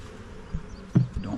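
Honey bees buzz at a nucleus colony in a hive, a faint, low hum with a few slightly louder swells over a brief stretch.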